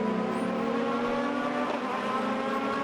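Race car engines in the Automobilista 2 video game, Cup USA at Road America, as the race gets under way, with a continuous droning roar of several cars revving together at moderate level.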